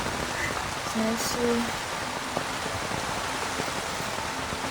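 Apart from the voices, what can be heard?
heavy rain at a seaside campsite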